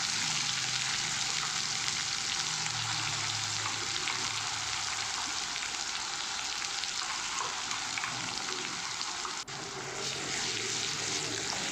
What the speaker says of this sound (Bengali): সুন্দর করে মশলাটাকে ফ্রাই করে নিতে হবে